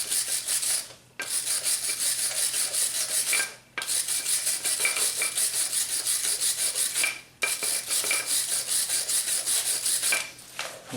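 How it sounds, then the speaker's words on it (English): A wire brush scrubbing rust off the front brake caliper bracket of a 2004 Honda Accord, a harsh, steady, close rasping that runs in long strokes, broken by three brief pauses, with no voices. "wire brush it off, being careful not to hit the boot"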